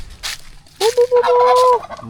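A turkey gobbles loudly and close by, a rapid warbling burst followed by a sustained rattling call, with faint background noise.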